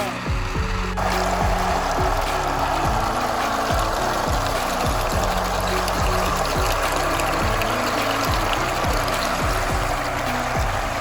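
Water from the hose of a newly hydro-drilled Abyssinian well pours and splashes steadily near the ground, a continuous close wash with a low rhythmic pump-like thumping underneath.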